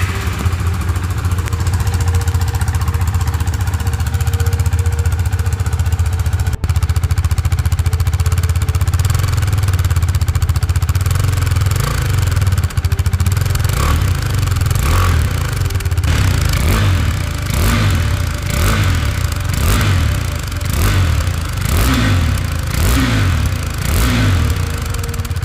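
A 2022 KTM RC 390 motorcycle's engine and exhaust start with a steady loud idle, then rev again and again in sharp repeated bursts through the second half, close and with no speech.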